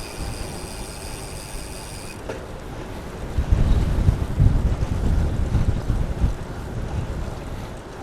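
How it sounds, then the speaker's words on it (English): A southern crosswind blows across the microphone on a rural gravel bike ride, a constant rushing roar that swells into heavier buffeting gusts midway, loud and close with no talk. "We definitely have a crosswind coming from the south."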